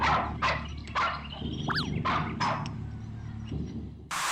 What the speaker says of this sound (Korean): 개소리가 나죠, 개소리가. 보면 개가 짖습니다.